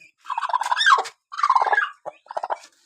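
A hen on a farm gives a few drawn-out, wavering clucks and calls in short bursts, close by and clear against a quiet background.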